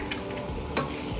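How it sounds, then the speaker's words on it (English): Flour gets stirred into a simmering clam chowder base in a pot, producing a brief close scrape of a spoon over a soft sizzle, with no voices. "I have to stir it in so it doesn't create clumps"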